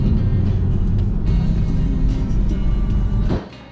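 A minivan accelerates hard away from a traffic light in a street race, a loud, steady engine roar with heavy low rumble that holds for over three seconds, then drops off abruptly near the end.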